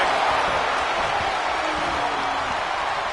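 Cheering arena crowd in the WWE 2K26 wrestling video game: a steady, loud roar of many voices with a faint whistle-like tone, continuous throughout.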